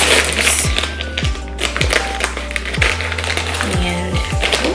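Scissors snip through Starburst jelly beans, producing several sharp crisp cuts with small clicks and rustles between them, close up against a low background hum.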